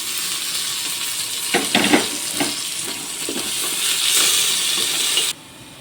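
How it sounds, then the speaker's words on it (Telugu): Spices and curry leaves frying in a pan, with a loud steady sizzle and hiss close by, a few stirring scrapes in the middle, and the sizzling continuing until it cuts off abruptly near the end. "మంచిగా ఇలా ఫ్రై అయినాక కరివేపాకుని యాడ్ చేసుకున్నాం"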